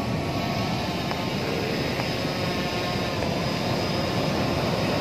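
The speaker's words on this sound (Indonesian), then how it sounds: "drone fishing pagi hari ya bosku." Steady broadband whirring drone of a fishing drone flying over a sandy beach in the morning, continuous and fairly loud throughout with no talking.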